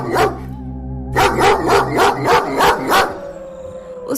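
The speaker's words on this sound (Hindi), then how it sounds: "वो कुत्ता वहाँ से नहीं जाता है और भौंकता ही रहता है।" A dog barks about half a dozen times in a loud, quick rhythmic series close by, with a brief yelp at the start and a low droning background underneath.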